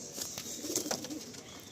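Pigeons in a loft, a breeding male and female among them, give soft, faint cooing and light fluttering rustles for a moment, with no talking.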